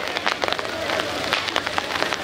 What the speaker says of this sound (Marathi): पावसाचा आशीर्वाद हा जगातला सर्वश्रेष्ठ असा आशीर्वाद आहे आणि या कार्यक्रमाचा तो आपण अनुभवत आहोत